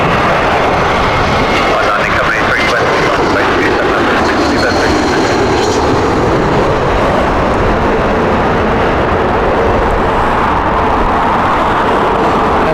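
A jet aircraft passes at Heathrow Airport on runway 27 left in strong crosswinds, its loud, close engine roar sustained and steady from start to finish.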